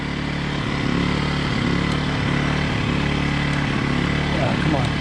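A small gasoline engine runs steadily and loudly up close with the choke on, a constant droning buzz beneath occasional talking.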